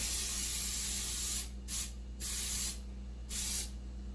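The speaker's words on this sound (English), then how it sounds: "lightly coat, and I'll do it over here so you can see, your pie tin with the spray" Steady hissing from cooking spray coating a pie tin comes in three short bursts over a constant background hum, close and fairly loud.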